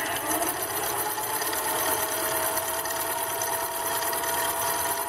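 A Fritsch Pulverisette 7 planetary micro mill running at top speed gives off a loud, steady, high mechanical whine and rattle that carries on without a break, with no voices.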